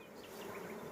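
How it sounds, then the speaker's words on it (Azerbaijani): Honey bees buzz steadily during a hawthorn honey harvest at an apiary, a faint, even drone of many insects with no voices. "Həqiqətən Nicatın arıları sakitdir."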